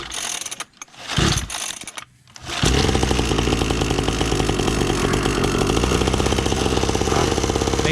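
Kids' SYX MOTO 50cc dirt bike pull-started by hand: a few rough pull-cord rasps, then the small engine fires and settles into a loud, close, steady buzzing idle.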